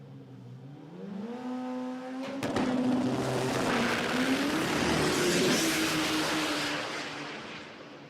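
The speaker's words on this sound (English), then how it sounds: "You've just seen one of the world's quickest 4-cylinder drag race passes again" A 4-cylinder drag race car makes a full drag pass at a street-performance event of over 2,300 horsepower, its engine note climbing in rising shifts then roaring at a distance, loud and sustained before fading.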